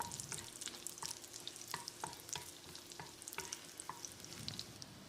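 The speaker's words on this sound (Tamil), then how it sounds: "சின்னதாக 6 பல் பூண்டு தட்டி வச்சுருக்கேன். இதை போட்டுடலாம். ஒரு 10 செகண்ட் இதை பிரட்டி விட்டுடலாம்." Six crushed garlic cloves fry in butter in a pan while a utensil stirs them, giving a soft continuous sizzle broken by light scraping clicks, quiet and with no talk.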